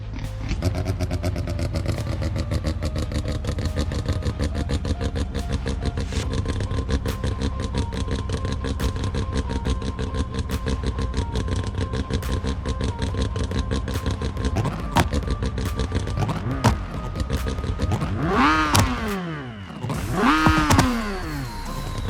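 A car engine idles and revs steadily in BeamNG Drive, its harmonic drone holding throughout and then climbing and falling in two sharp rev sweeps near the end, loud and alone without talk.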